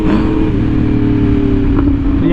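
A Yamaha R1M sport motorcycle engine runs at steady high revs with the throttle held open. The loud, close, buzzing inline-four drone keeps an even tone, with a small blip near the end.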